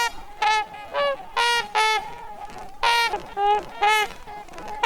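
Trumpeter swans call in a mated pair, trading loud, nasal, horn-like honks in short alternating bursts, close and clear with brief gaps between calls.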